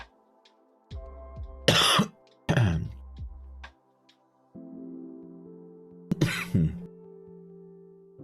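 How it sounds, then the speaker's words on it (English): A man with a cold coughs and clears his throat several times, in short harsh bursts separated by pauses. The sounds are close and loud over a faint electronic hum in a quiet room. "I still have my little cold here, so I apologize for the coughing."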